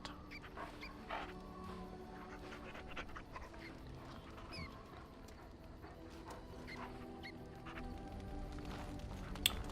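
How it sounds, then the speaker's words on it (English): A dog pants in the camp of the fantasy game Dragon Age: Origins, quick rhythmic breaths with a few small whimpers at close range over a quiet, murmuring game background. "Hello, doggy."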